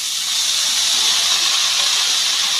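Mustard greens hit hot oil already holding fried onion, green chilli and garlic, giving a loud, even, continuous hiss and sizzle with no voices.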